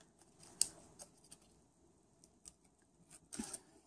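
Scissors snipping paper for a butterfly embellishment, a few quiet, crisp cuts spaced irregularly over near-silence, with a sharper snip near the start and another near the end.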